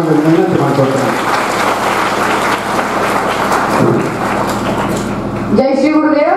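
A crowd in a school hall in Dharwad, at a children's event at the BGS educational institution, claps for someone speaker. The loud, dense applause runs for several seconds, with a voice briefly at the start and talk resuming after it fades.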